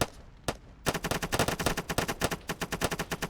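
Heavy FN Minimi light machine gun fire in the Call to Arms war game: one sharp shot, a pause, then a long rapid burst of loud, evenly spaced rounds with no talking.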